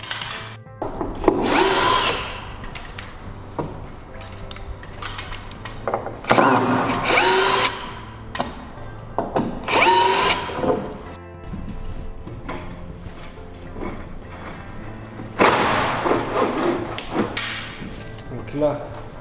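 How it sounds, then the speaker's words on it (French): A power drill unscrewing the fascia board of a flat-roof TousChalets garden shed, several loud close whirring bursts with wood knocks in between, and someone talking between the bursts. "on va dévisser la planche de rive pour passer derrière"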